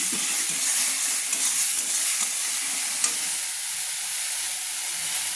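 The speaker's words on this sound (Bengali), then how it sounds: "তো আমি প্রয়োজন মতো লবণ দিয়ে দিচ্ছি, দিয়ে নেড়ে দিচ্ছি" Fried spice paste with salt for prawn malai curry sizzles steadily in a pan while being stirred, a continuous close hiss with faint scraping and no talking.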